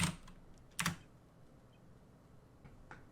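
A few sparse keystrokes on a computer keyboard, typing dialogue into the Attorney Online chat client, with two distinct clicks early on and a faint one near the end against a quiet room.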